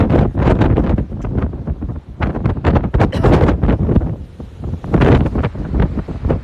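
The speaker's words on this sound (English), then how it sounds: "I know it's hard to hear me, but it is windy." Strong, continuous wind on Tybee Island, Georgia, ahead of a tropical storm buffets the microphone with loud, rough gusts that rise and fall throughout.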